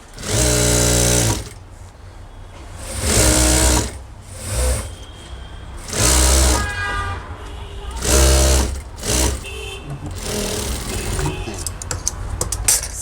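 A sewing machine stitches school pant fabric in repeated short bursts of rapid clatter separated by pauses, close and loud, with a person talking between runs.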